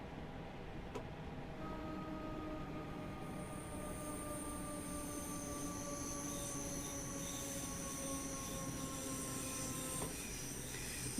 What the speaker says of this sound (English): I do like the flange squeal on this route.